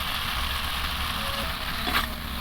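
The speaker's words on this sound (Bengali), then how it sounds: "মশলাগুলো কষিয়ে নিচ্ছি সবজির সঙ্গে" Spices fried with mustard and onion paste and vegetables in a pan, a steady close sizzle with faint stirring scrapes, no voices.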